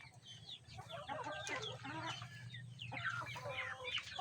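Several backyard chickens cluck and chatter close by over a steady low hum, with overlapping calls throughout.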